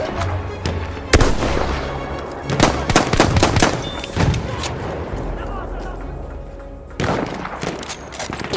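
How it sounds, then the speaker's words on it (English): An artillery barrage in the video game Battlefield 1: loud, sharp explosive blasts and bursts of gunfire crack out in irregular clusters over a rumbling battlefield background. "By our artillery barrage"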